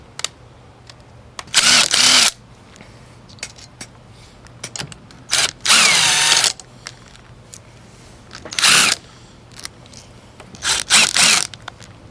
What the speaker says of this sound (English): Now place the 14mm socket on the nut and take them off.